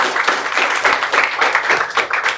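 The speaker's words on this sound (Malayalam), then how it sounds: "ഒരു നല്ലൊരു ക്ലാപ്പ് കൊടുത്തേ" An audience applauds a performance at a live event, a steady, fairly close wash of many hands clapping with slight rising and falling swells throughout.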